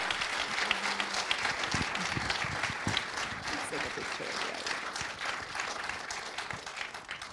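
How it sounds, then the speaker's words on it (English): Steady applause from a crowd fills the scene, continuous clapping at moderate volume with voices mixed underneath. "Let's give him a round of applause as he makes his way up here."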